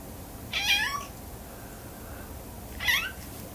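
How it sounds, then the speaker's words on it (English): A house cat meows twice, about two seconds apart, each call clear and moderately close over a quiet background hum. "Can you hear my cat agreeing?"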